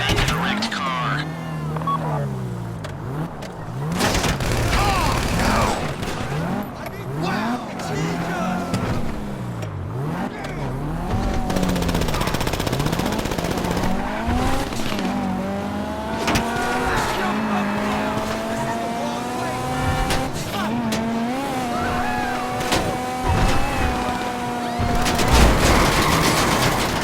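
A heist car driven in Grand Theft Auto V, its engine note rising and falling through gear changes with tire squeals and loud in-game action noise, while voices talk throughout.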